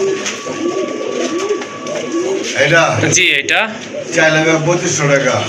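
Crested pigeons at a Bangladeshi pigeon market, soft cooing mixed with flapping and clatter as people talk loudly nearby.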